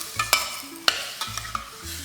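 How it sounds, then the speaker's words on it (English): Beef cooking in a pan on a stove, with a soft background sizzle broken by several sharp scraping and stirring knocks of a utensil against the pan. "And then I'll let it fry until it gets like brown."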